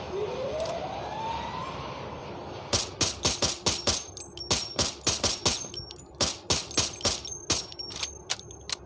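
Rapid bursts of video game gunfire blast at a wall, sharp loud cracks in quick uneven volleys after a rising whine, with a thin tone running underneath.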